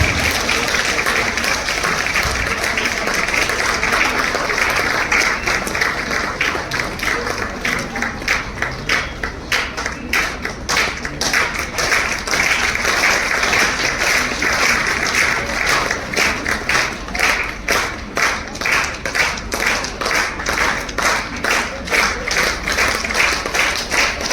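Sustained applause from a women's event audience in Nagpur fills the whole stretch, a dense, even wash of clapping that swells into sharper, rhythmic claps partway through and keeps going without talk.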